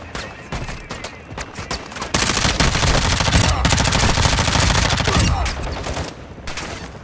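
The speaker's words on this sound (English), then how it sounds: "Taking effective fire." Rapid automatic gunfire in a DMZ video game bursts loud and close, with a sustained volley in the middle and scattered shots before and after.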